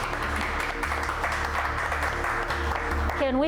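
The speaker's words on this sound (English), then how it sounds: "everybody at home needs to be a huge round of applause" Applause from a chili cook-off audience sounds as a soft, steady wash of clapping that holds evenly throughout, with a brief voice starting up at the very end.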